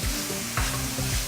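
Defrosted meat fries in a dry pan with no oil, rendering its own fat. A steady sizzle carries on throughout, with a few louder scrapes and stirs close by and no one speaking.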